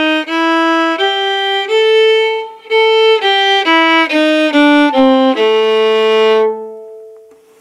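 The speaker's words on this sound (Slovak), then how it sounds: "Blúzová stupnica od tónu A znie takto nejako." A blues scale starting on A, played as a clear, sustained single-note line on a melodic instrument: about a dozen distinct notes stepping up and down, loud and close, ending on a long held tone.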